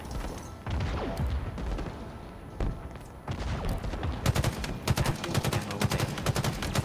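A chain gun fires in the online shooter Halo Infinite, with scattered shots early on and then a rapid, rattling burst of close, loud gunfire in the second half.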